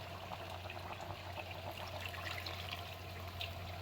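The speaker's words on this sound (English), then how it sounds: "at this time, we can assume we can now add some water, not too much." Water poured into a cooking pot of meat for Nigerian stew, a steady soft splashing wash that runs throughout at low level, close by, with no talking.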